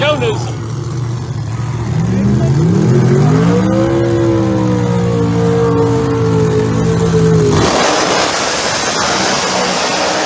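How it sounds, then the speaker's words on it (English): A twin-turbocharged Ford Mustang at a drag strip roars loudly, its engine note climbing steadily as it launches and pulls away, then cutting off abruptly near the end while crowd and track noise continue, with a commentator's voice underneath. "Jay Newsom in the far lane in a twin turbocharged Ford Mustang"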